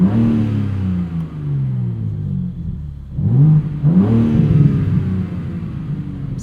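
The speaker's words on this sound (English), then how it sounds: "Active exhaust." A 2024 BMW M3 CS with active exhaust revs up on a night drive, its engine note rising in two loud, close sweeps with a brief lull between.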